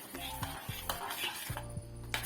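Appam batter stirred in a pot before covering gives repeated scraping and clinking strokes of a spoon against the metal, close and fairly quiet, with no voices.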